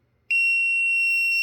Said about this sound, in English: remove it, then the alarm goes off.